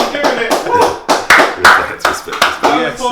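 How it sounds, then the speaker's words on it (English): A handful of people clap close by to welcome a guest in a small space, the claps sharp and uneven in bursts, with voices talking over them throughout. "So, you know, round of applause."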